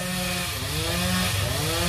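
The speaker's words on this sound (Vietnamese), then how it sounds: "Đang kéo máy cưa lên lại" A chainsaw cuts through a large branch of a rain tree (cây còng), its engine droning loud and steady and close by for the whole stretch, with no voices.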